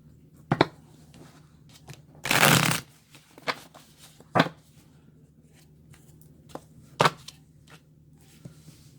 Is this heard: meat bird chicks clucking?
no